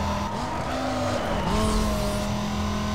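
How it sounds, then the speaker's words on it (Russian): A Porsche engine in Need for Speed: Most Wanted whines at high revs, pitch rising and shifting as it speeds along, with a faint tire squeal; loud and continuous, no talking. "Смотри, летит Порш."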